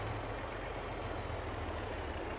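Heavy truck driving in Farming Simulator 22, a steady low engine drone with broadband road rumble, loud and continuous throughout with no talk.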